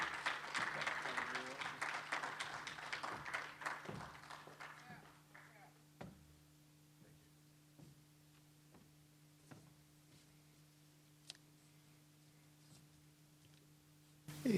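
Audience clapping at a tribute event as a guest walks to the stage, a dense burst of applause that thins out after a few seconds, leaving scattered claps and knocks over a steady hum.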